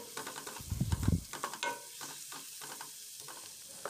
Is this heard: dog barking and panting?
no